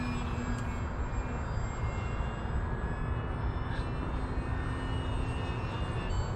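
An Eflite P-51 1.2m RC plane flies overhead with a steady, continuous motor and propeller drone at moderate loudness, holding level for the whole stretch, with no talking.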